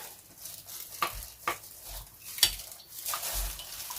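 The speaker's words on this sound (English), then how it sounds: "giving this a good mix." A mixture of water and glycerin is stirred in a container, with soft swishing and a few sharp clinks of a utensil against the side in an irregular rhythm, close and moderately quiet.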